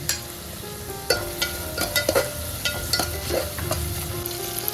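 Ginger garlic paste frying with onions in a pan, a continuous close sizzle broken by scraping and tapping of a stirring spoon, with no voices.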